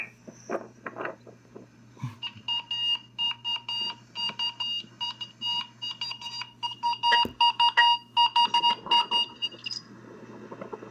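A RadioShack weather radio's electronic alert tone sounds in rapid, rhythmic beeping bursts, loud and close, repeating for several seconds after a brief quiet start.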